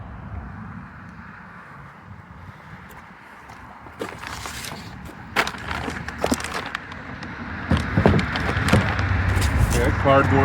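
Truck step sides for an OBS Suburban being pulled from cardboard packaging, with rustling, scraping and crinkling cardboard that grows busier and louder toward the end, close to the mic, alongside bits of talk.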